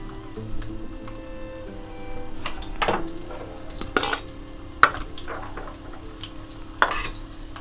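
Fenugreek and potato sabzi fries in hot oil with a steady close sizzle, broken by a few sharp clinks of a utensil against the pan and no talking.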